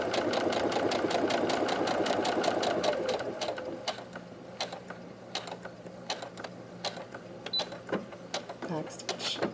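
A sewing machine runs steadily while back stitching the seam of a fabric scrunchie, a dense mechanical whir for a few seconds, then quieter clicks and ticks of the mechanism as it stops and the thread is handled.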